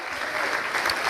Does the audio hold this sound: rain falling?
no